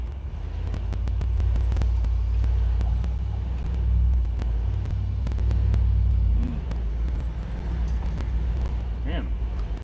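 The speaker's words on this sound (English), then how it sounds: "Car. Another car." Car rumbling past on a nearby road beside an outdoor grill, a low swelling roar that builds and fades, with a voice speaking briefly near the end.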